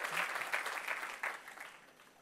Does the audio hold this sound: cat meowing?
no